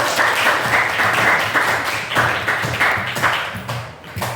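A class of students claps for a student group in steady rhythmic bursts, a close, lively patter of hands that rises and dips in waves before tapering off at the end.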